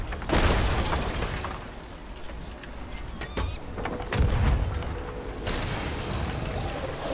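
Cannon shots striking a ship in the pirate video game Sea of Thieves, several deep booming impacts amid sloshing water and creaking ship noise, loud and spread across the scene.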